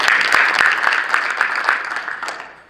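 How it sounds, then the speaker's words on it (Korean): Applause from the audience at a Korean Christian council representatives' meeting in a hotel grand ballroom, with individual claps standing out from the crowd, loud at first and then gradually fading. "한번 박수 한번 해드립시다"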